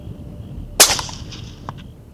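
A single rifle shot on a safari hunt cracks out sharply and loud, followed by a brief decaying echo and a fainter second report, with quiet outdoor ambience around it.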